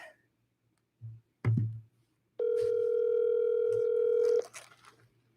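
A telephone dial tone sounds steadily for about two seconds as a live outgoing call is placed, preceded by a few soft clicks and handling knocks, then cuts off.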